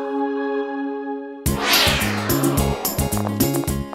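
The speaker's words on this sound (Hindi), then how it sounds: "बिल्ली से मुकाबला।" A cartoon cat lets out a meow, followed by lively background music and sound effects, loud and close.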